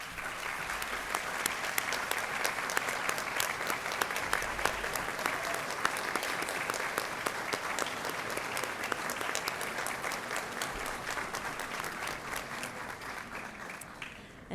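A graduation audience gives a long, sustained round of applause for a university communication department's ceremony, many hands clapping densely and steadily for about fourteen seconds, heard from a distance in a large hall before it tapers off at the end.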